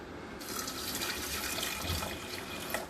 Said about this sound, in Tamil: ஊற்றுங்க தண்ணி ஊற்றுங்க